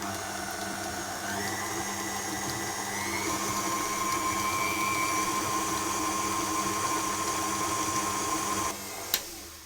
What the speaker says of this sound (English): I'm going to cream those together until they're light and fluffy